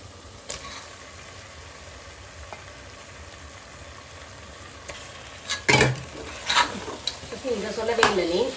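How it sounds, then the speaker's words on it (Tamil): Chicken goes into a pan of frying tomatoes for chicken biryani, giving a low steady sizzle. Sharper clatter from stirring and utensils builds toward the end. "இந்த ஸ்டேஜில் வந்து நான் சிக்கன் ஆட் பண்ணிக்கிறேன்."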